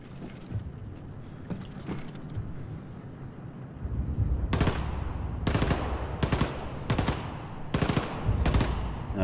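Automated security turret gunfire in the Wolfenstein II video game: after a quiet stretch, five or six loud, sharp bursts of rapid machine-gun fire ring out in a steady rhythm, with no talking.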